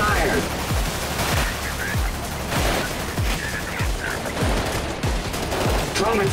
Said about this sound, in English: Trauma team is taking heavy fire.